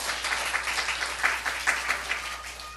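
Congregation at a Seoul church service applauding together during a morning worship sermon, a steady wash of many hands clapping at moderate volume for nearly three seconds with no talk over it.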